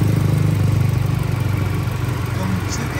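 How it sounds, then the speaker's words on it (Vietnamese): A 2018 Hyundai Accent 1.4 automatic idles quietly, its engine giving a smooth, low, steady hum with a faint regular pulse, close by and unbroken. "máy nổ thì im im im"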